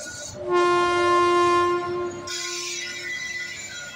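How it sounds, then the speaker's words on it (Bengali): An Intercity Express train leaving a station toward Howrah sounds a long, loud horn blast that ends abruptly. A rolling rumble of the departing train and wheel noise follows. "ইন্টারসিটি এক্সপ্রেস অগ্রদ্বীপে দাঁড়ায় না, তাই আমাকে নামিয়ে চলল হাওড়ার দিকে"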